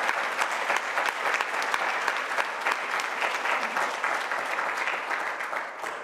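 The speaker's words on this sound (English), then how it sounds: "So just a quick round of applause for them." Applause from a keynote audience at a Durham event: many hands clap in a full, even wash that holds for several seconds and tapers slightly at the end.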